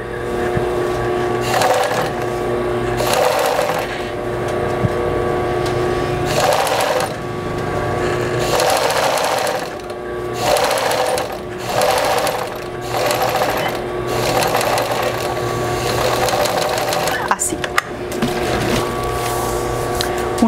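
A sewing machine stitches a shirt-style blouse, running loud and close in repeated bursts of rapid whirring separated by brief pauses.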